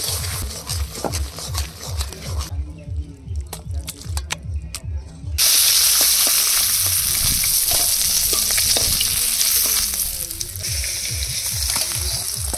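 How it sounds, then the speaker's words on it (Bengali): Boiled taro pieces are sautéed in a pan with salt and turmeric, giving a steady close sizzle with repeated scraping stir strokes, briefly muffled midway before the frying hiss swells louder and continues. "লবণ হলুদ দিয়ে মান কচুগুলো কষিয়ে নেব"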